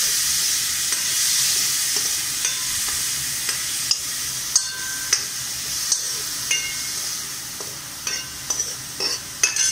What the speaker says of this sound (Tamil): இது எல்லாத்தையும் போட்டு நல்லா இப்போ ஒரு பெரட்டி பெரட்டி விடுறோம்